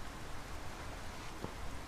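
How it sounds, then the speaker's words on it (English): Steady outdoor rain falls in a dense, even hiss that holds without pause, with a faint soft tap near the end and no voices. "It's raining."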